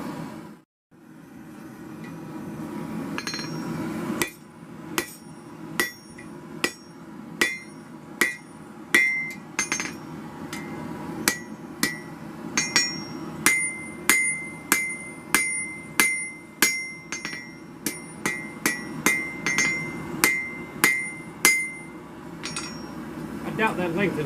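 A hammer strikes hot steel on an anvil in a steady run of sharp, ringing blows at about one per second, close and loud, as the blacksmith draws out the metal.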